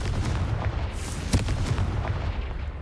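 A Confringo blasting spell bursts in Hogwarts Legacy, a deep rumbling boom with a sharp crack near the middle over continuous low game rumble, loud and without speech.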